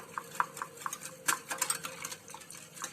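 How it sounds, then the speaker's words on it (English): A spoon stirs kesar pista milk in a pot, giving a quick run of light clinks and scrapes against the metal with uneven rhythm, faint and close. "I'll be stirring it in one direction so that no lumps are formed for 2 to 3 minutes"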